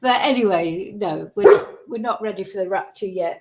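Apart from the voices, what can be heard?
dog barking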